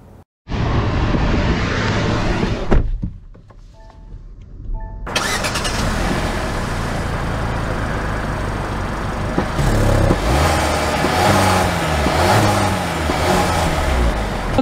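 A 2024 Kia Seltos SX Turbo, a turbocharged compact SUV, starts and pulls away, engine note rising as it accelerates, with steady road and cabin noise filling the rest, close and moderately loud, no speech.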